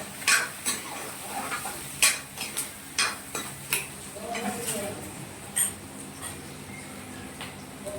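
A tempering for potato dal is stirred in a pan, giving a soft sizzle under repeated sharp metal ladle scrapes and clinks, close by, while a person talks over it.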